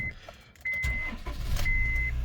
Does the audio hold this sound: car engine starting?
yes